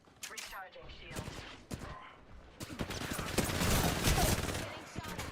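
Video game gunfire rattles in rapid, overlapping bursts that build into a sustained loud barrage, with a voice talking intermittently over the shooting.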